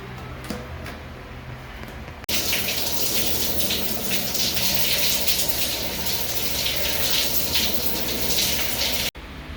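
A shower runs in a truck stop stall, a loud, steady rush of spraying water that starts abruptly and gushes continuously before cutting off, with no talking.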